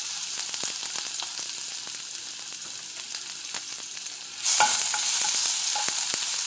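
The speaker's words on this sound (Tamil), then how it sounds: "பூண்டு எண்ணெயில் பொரிட்டோம்" Garlic frying in hot oil for a shark fish curry, a dense crackling sizzle with frequent small pops close by that swells suddenly louder and hissier partway through.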